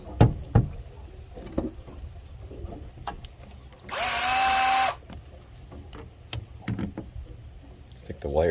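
A power drill twists electrical wires together during boat repair, with one short, steady whirring burst of about a second amid handling clatter and nearby talk.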